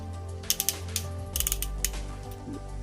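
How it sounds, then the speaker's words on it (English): Ratchet joints on a ZTQ-15 transformable toy tank figure click sharply up close, first in a quick cluster, then in a second burst and a single later click, with no voices. "The ratchets sound good in there"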